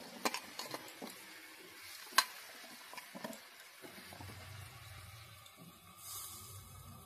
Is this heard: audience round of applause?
no